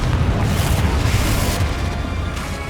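Loud, dense explosive boom from a Confringo fire spell in Hogwarts Legacy, a sustained rumbling blast with heavy low end filling the whole moment.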